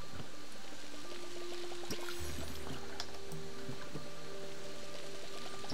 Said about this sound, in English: Let's water the rest of these plants.